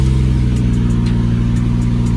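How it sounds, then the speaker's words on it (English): Close, loud truck engine revs hard and holds a steady high drone during a tire burnout, with no voices over it. "let's see if we can even just do a little burnout real quick on these"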